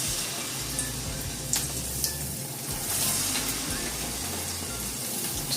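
Steady crackling sizzle of punugulu fritter batter frying in hot oil, close and continuous, with a few faint clinks of a spoon.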